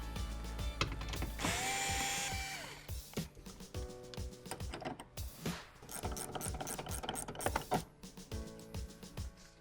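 A power tool drives out the upper B-pillar bolts inside a second-generation Subaru Crosstrek, a loud whirring burst followed by mechanical clicks and clatter, close and continuous over a low tonal background.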